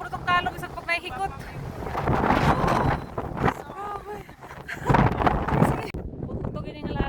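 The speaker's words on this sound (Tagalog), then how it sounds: "Grabe kakusog ang hangin guys oh." Strong wind gusts buffet the microphone on Granite Island at Victor Harbor, Australia, roaring unevenly in close bursts while people talk over it.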